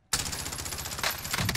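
Rapid automatic gunfire in Call of Duty Warzone, a dense, loud burst of shots starting abruptly and continuing without pause.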